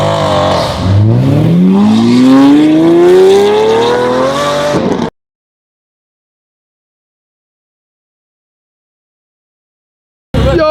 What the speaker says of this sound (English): That is the sweet sound of the Murcielago